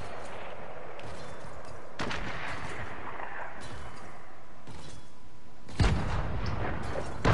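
Sniper rifle shots in a Fortnite-style battle royale game ring out as a few sharp, separate cracks with booming tails, spaced apart over quiet ambient game sound.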